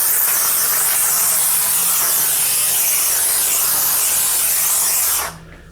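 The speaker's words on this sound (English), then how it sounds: "Let's introduce a little bit of steam." Steam cleaner blasting a car engine bay, a loud continuous hiss of spraying steam held steady for several seconds before cutting off abruptly.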